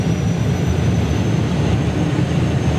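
A drag racing car at a nostalgia drag racing meet roars at full throttle, a loud, dense, continuous engine blast with no pauses and no talking.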